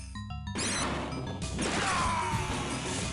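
A grenade blast in the arcade game Metal Slug X, a loud crashing explosion that bursts in after a short stretch of music and rumbles on with scattered debris.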